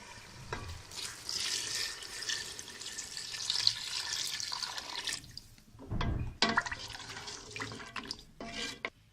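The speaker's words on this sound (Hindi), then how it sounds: "ये 1 जग हम इसमें पानी डालेंगे।" A jug of water is poured into a pot of beef nehari, a steady splashing gush lasting several seconds, followed by a few short clattering kitchen sounds.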